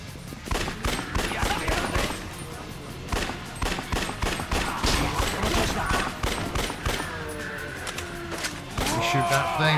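Sustained rapid gunfire in the video game Yakuza Dead Souls, loud, close bursts firing almost continuously, with someone talking over the shooting.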